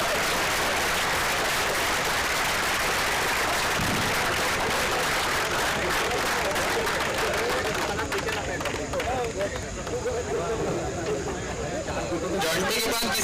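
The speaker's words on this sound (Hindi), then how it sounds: "जॉन्टी के लिए बहुत जोर से तालियां" An audience at a cricket league closing ceremony in Nagpur applauds and cheers loudly and continuously, a thick wash of clapping and crowd noise, with a voice speaking over it partway through.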